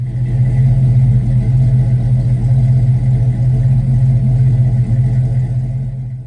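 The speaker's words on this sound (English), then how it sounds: "and just revving the engine, it just sounds perfect." A car engine revs loudly and close after an ignition repair with a jumper wire run from the ignition switch straight to the coil, a steady deep rumble rising and falling evenly through the whole stretch.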